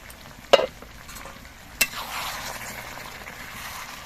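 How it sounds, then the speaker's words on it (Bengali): Malabar spinach and mixed vegetables are stirred in a pan after the lid comes off. Two sharp clanks of the spoon against the pan lead into a scraping stir, and a steady sizzle continues underneath. No one speaks. "এভাবে মাঝে মাঝে ঢাকনা খুলে খুলে কিন্তু নেড়ে দিতে হবে"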